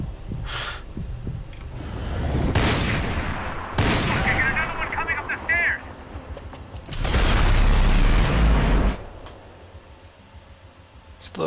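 Gunfire in Max Payne 3 cracks out in loud bursts with a rapid volley near the middle and heavier fire around eight seconds, backed by game ambience and brief voices.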